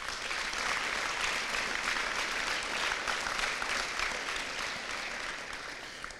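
Continuous applause from the crowd at a high school fall activities awards night, an even wash of many hands clapping that tapers slightly toward the end, with no talking.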